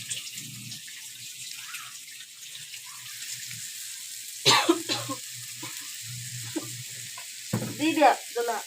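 Vegetables sizzle steadily in hot oil in a wok while being stirred, with a few louder scraping bursts and a cough or throat-clearing nearby, close and moderately loud.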